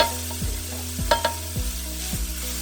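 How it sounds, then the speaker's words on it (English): Strained ground meat goes back into a skillet with potatoes for picadillo, frying with a steady close sizzle while a utensil stirs and scrapes in a slow repeated rhythm, no talk. "I got my meat here that we strained. So we're just going to add that back into the skillet"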